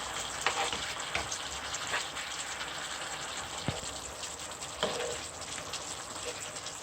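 Salmon curry simmers in a pan with a soft, steady sizzle and bubbling, dotted with a few faint clicks and taps, quiet and close with no voices.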